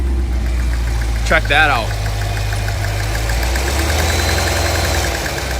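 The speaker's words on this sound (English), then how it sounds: "Nothing like a little bit of a knock in the engine here" A brand-new Cadillac Escalade V with only 18 miles on it idles with a steady low engine rumble and a faint knock, while a voice briefly speaks over it near the start.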